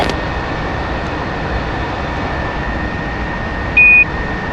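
F-4 Phantom jet engine in a flight simulator game, a steady broadband roar with a constant high whine while taxiing, and a short electronic beep near the end, without talk.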